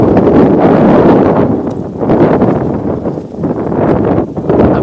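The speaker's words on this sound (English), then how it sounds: "Gust of wind from our press box here." A strong gust of wind buffets the microphone in a soccer press box at a girls' high school state quarterfinal, a loud, continuous rumbling roar that dips briefly and surges again.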